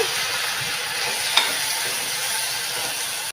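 Onions fry in a pan for a brinjal curry as a constant close hiss fills the scene, with a single brief clink partway through and no talk.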